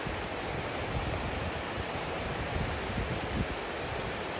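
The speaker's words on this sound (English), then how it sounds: "And then the creek right there." Continuous broadband rush of flowing water, steady and even throughout, like a nearby creek running over stones near old abandoned mines and a sawmill, with no voices.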